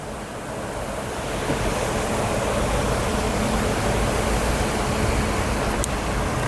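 Loud, steady rush of splashing water, continuous and broadband like a fountain or cascade nearby, with no voices.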